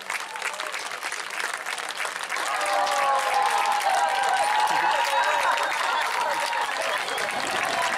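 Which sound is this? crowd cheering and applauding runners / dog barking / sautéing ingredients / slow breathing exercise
crowd cheering and applauding runners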